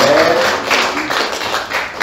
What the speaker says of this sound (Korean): 우리 주님께 감사의 박수 드립니다.